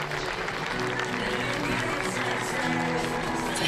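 Crowd at an outdoor athletics meet in Innsbruck claps steadily for a Cuban long jumper before his attempt, a continuous mass of applause with faint voices under it.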